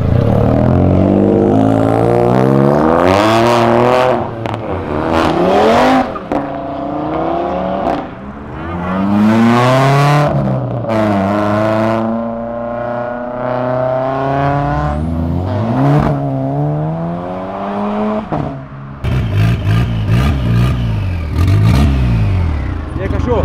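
A Chevette race car accelerates on a track and revs hard through rising and falling gear changes, its loud engine whine continuous and close throughout.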